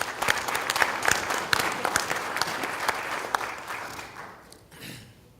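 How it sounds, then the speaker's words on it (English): A conference audience at the CANTO 2017 ministerial session applauds a presenter, with crisp, dense clapping that gradually thins and fades out over a few seconds. "Please give her another round of applause."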